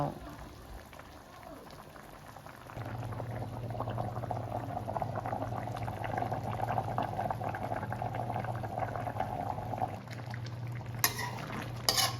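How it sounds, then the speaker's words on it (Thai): Hang le curry, a northern Thai pork curry, simmering in a pot with a steady close bubbling and gurgling that grows fuller after a few seconds, with faint utensil clinks near the end. "เฮาก็ ต้มละไว้เจ้า เอาจนมันเปื่อยๆเลย"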